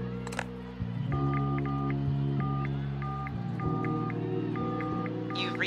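Telephone dialing in the Unforeseen Incidents adventure game: a run of short keypad tones in a regular rhythm over a steady humming background, then a faint rustle at the end.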